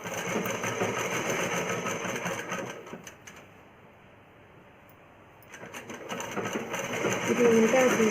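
Sewing machine stitching a child's umbrella frock, a fast close mechanical whir that pauses for a few seconds in the middle and then resumes.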